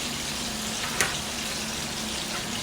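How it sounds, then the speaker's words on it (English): Steady running water from a kitchen sink tap while dishes are washed mid-cooking, a constant close hiss with a brief clink near the middle and no speech. "I kind of try to wash dishes as I go."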